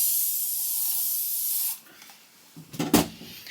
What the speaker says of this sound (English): just put a bit of hairspray